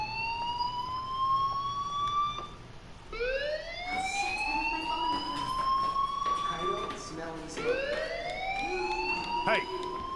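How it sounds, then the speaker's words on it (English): A fire alarm wails in the video game Life is Strange, rising repeated siren sweeps that restart several times, loud and continuous over background game sound. "Hey, do you hear that fire alarm?"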